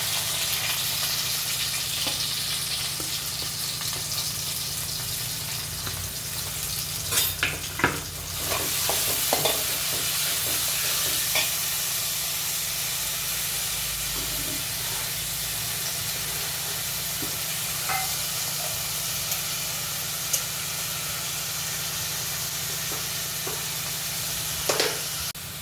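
Onions frying in hot oil in a pan for a home lunch dish give off a steady, loud sizzle and hiss, broken by occasional stirring scrapes and bursts of crackling.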